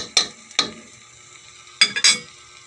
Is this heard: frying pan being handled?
yes